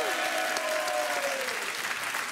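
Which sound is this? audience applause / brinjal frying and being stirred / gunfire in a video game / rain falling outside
audience applause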